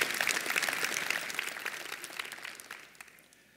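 Audience applause after a gun buyback event, steady dense clapping that gradually fades over a few seconds.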